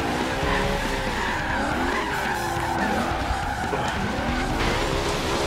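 Tires squeal and skid continuously during a drift in Forza Horizon 3's online parking lot practice, with engine roar, wavering pitch and steady loud tire noise throughout.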